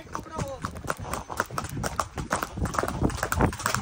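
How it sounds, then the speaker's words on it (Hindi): A horse ridden at speed in Mahabaleshwar clip-clops steadily, its hoofbeats loud, close and rapid throughout, mixed with people speaking over the running. "नंबर वन घोड़ा हमारे साथ आ गया है, घोड़े की राइडिंग करने जा रहे हैं हम लोग"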